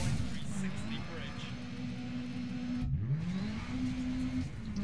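Rally car engine at full throttle in the Dirt Rally video game, a steady loud droning roar holding pitch through most of the stretch, dipping briefly near the end of the third second before climbing again, with someone talking over it.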